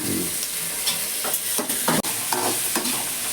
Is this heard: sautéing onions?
yes